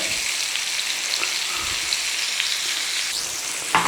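Steady, dense sizzling of burger patties frying in a hot pan, a continuous crackling hiss with small pops throughout, close and fairly loud.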